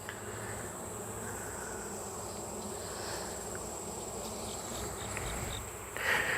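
Honeybees from a dropped brood frame buzz in a steady, dense swarm hum, close and continuous, with individual bees flying near in passing.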